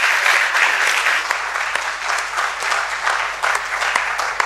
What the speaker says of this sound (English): Let's clap for them while they go to their seats